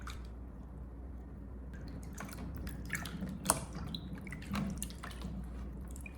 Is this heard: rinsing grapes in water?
yes